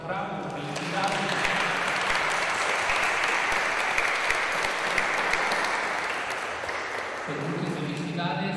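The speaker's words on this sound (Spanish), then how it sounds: "Pues muchas felicidades a Paulina Guadalupe, les invito a darle un fuerte aplauso." Steady, enthusiastic applause from a crowd at a quinceañera celebration in Santa Ana de Nahola, Tula, Tamaulipas fills the whole stretch, loud and continuous, fading slightly near the end.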